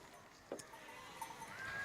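Sheep bleat faintly in the distance outdoors in the Sicilian countryside, a few short wavering calls over a quiet background.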